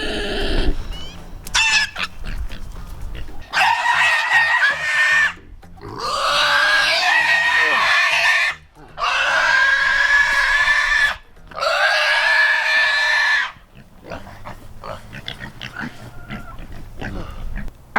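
Pigs being moved out of a shop squeal in long, loud, shrill bursts, several sustained cries with short gaps between them, mixed with grunting and shuffling in a close indoor pen.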